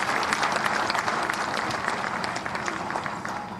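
A large crowd applauds loudly and steadily at a ceremony honouring newly elected mayors and councillors in Haryana. The dense clapping fills the room without a break for the whole stretch.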